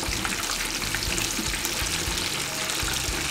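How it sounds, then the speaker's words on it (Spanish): Burgers frying in hot oil in a pan, a steady close sizzle and crackle with small bubbling pops running throughout. "ahí están hirviendo nuestras hamburguesas"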